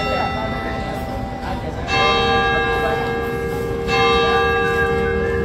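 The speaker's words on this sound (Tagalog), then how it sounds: "tumutunog yung kampana eh" Church bell tolling with a bright, ringing tone, strikes landing about every two seconds and sustaining over a faint background murmur of voices.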